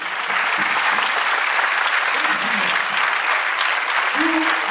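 Audience at a graduation ceremony breaks into sustained, dense applause, a loud steady clapping that fills the whole stretch.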